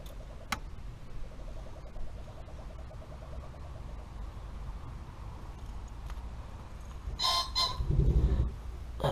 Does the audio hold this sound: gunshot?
no